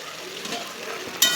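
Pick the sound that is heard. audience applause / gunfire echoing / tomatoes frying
tomatoes frying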